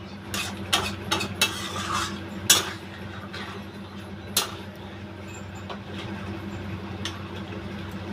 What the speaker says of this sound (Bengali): ভালো করে একটু কষে নিই